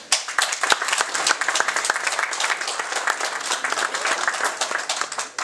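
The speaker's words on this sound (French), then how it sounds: "on peut l'applaudir aussi" Steady, dense applause from a seated audience at an association gathering, many hands clapping at a moderate level for several seconds without speech.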